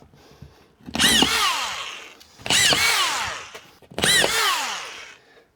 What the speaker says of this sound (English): Having a drywall gun, especially cordless, makes it easy putting in screws.